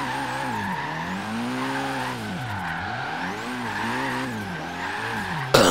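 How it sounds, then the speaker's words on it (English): A car drifting in Forza Horizon 3 lets out a long, continuous tire squeal that wavers up and down over a droning engine, loud and close, with a sharp bump at the very end. "This is what my car likes to do when it drifts."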